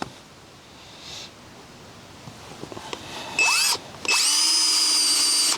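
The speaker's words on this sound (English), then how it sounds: "This drill and bit is definitely overkill." A power drill with a large bit bores a hole for a gate post, starting with short whirs and a rising spin-up, then running loud and steady at close range after quieter rustling.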